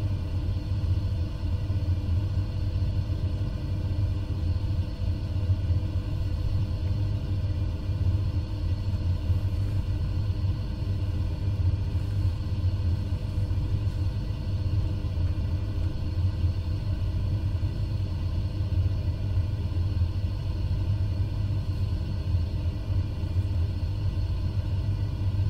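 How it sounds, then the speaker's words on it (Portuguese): Inside the cabin of a small Cessna 140 aircraft in flight, the engine drones at a steady, loud pitch, a constant rumbling hum that stays even with no other sounds. "há bocado estava aí o barulho dos motores"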